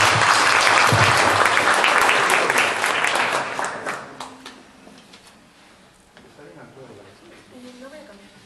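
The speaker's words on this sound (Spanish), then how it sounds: "Un fuerte aplauso, por favor." An audience applauds loudly for a student's recital in a library, a dense burst of clapping that thins out and fades to scattered claps and room murmur.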